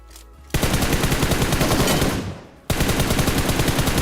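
Rapid automatic gunfire in a battle royale shooter game, two long loud bursts of fast repeated shots separated by a brief pause.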